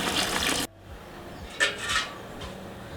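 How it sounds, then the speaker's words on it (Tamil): Tamarind water is poured into a large cooking pot, a loud splashing stream for under a second that stops abruptly, followed by a few faint clinks and knocks of the pot. "தண்ணி ஊற்றிடலாம்."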